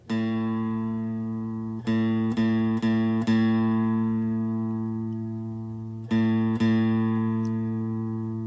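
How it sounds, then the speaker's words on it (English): A guitar's A (5th) string rings out as a steady low tuning note, picked about seven times in two clusters, each pluck slowly fading. No voices. "And the A or 5th string."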